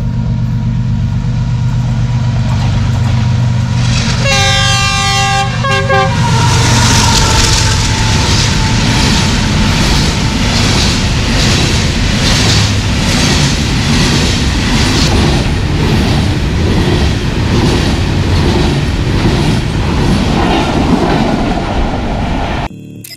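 The Pakistan Express passenger train, hauled by a GU40 locomotive on its Karachi to Rawalpindi run, passes close by at Jhimpir with a loud, continuous rumble and rhythmic clickety-clack of wheels, opening with a brief horn blast.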